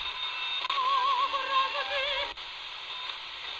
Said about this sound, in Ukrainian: Музика, звук просто е, звук прям дуже чистий, коли є хороший сигнал, відповідно.